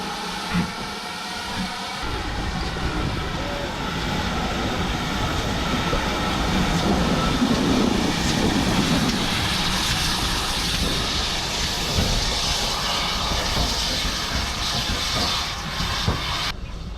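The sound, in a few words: steam train departing station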